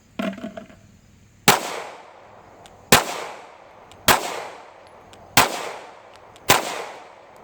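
A Walther PPQ M2 pistol fires five sharp, loud shots at slightly uneven intervals of about a second, each crack followed by a short ringing decay, after some faint handling noise at the start.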